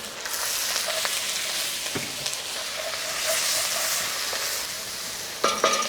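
Mushrooms sizzle and hiss steadily in a hot pan as their residual liquid lifts the fond from the bottom, with a few clinks of a utensil stirring and a sharper clatter near the end.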